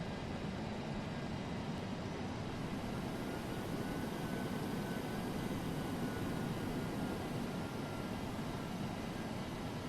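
A DC-8-73F jet in FSX taxis onto the runway, its engines giving a steady, even broadband roar and hum with no talking.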